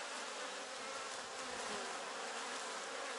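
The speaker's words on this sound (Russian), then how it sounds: "Но это пчела." Honeybees buzz at an opened queen cell, a dense, steady hum heard up close, faint overall and continuous with no pauses or voices.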